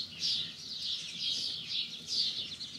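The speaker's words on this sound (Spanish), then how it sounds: "¿cómo no va a estar uno cocinando con tanto gusto, escuchando tanto los pájaros?" Small birds chirping outdoors at a ranch during cooking, steady repeated high twittering in quick bursts, moderately near, with no speech over it.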